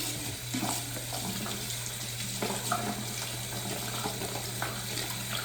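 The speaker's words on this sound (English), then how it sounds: "I'm just going to wash my hands" A household bathroom faucet runs steadily into a sink as hands are washed, a continuous close splashing flow with small shifts in the stream and no talking.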